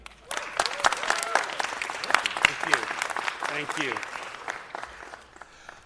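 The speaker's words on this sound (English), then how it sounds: "We don't get a lot of applause at the library." Applause from the audience at a city council meeting, a steady dense clapping that swells and holds for several seconds while someone speaks over it, thanking the room.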